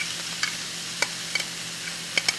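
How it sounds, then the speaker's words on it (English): Meat and vegetables sautéing in coconut oil in a pan: a low sizzle under several sharp, scattered clicks and scrapes from stirring. Close, with no talking. "Just a little sauteing going on here."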